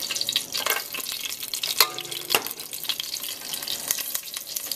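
Onions and ginger frying in a pan for saag paneer, a steady sizzle with scraping stirring strokes and soft clatters throughout.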